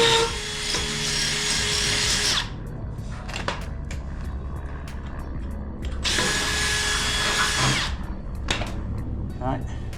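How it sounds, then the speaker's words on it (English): Power drill boring a hole for a concrete bolt while building garage shelves, two loud whining bursts of a few seconds each separated by quieter clatter and handling noise. "drill your hole."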